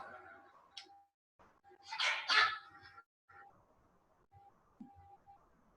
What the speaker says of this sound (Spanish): Yo escucho un perro que, no sé.